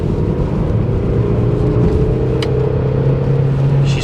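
A Hyundai Tiburon pulls steadily in third gear, its engine giving a continuous, close, moderately loud drone that rises slightly in pitch as the car gains speed.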